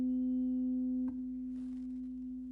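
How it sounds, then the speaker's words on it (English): A steady, pure sustained tone from sympathetic vibration rings on throughout, with a brief soft knock partway through and faint rustling afterward. "Sympathetic vibration."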